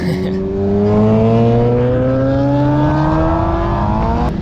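Motorbikes race past on a motorsports track, their engines whining loudly with pitch gliding as they sweep by close, several machines overlapping in a continuous roar.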